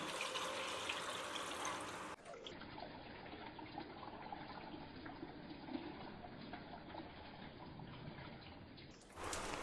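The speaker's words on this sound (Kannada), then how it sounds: "ಸ್ವಲ್ಪ ನೀರು ಹಾಕ್ಕೊಳ್ತಾ ಇದ್ದೀನಿ" Water trickles and splashes softly into a cooking pot of greens for several seconds, quiet and close, with no speech.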